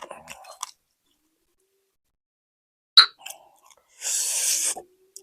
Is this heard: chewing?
yes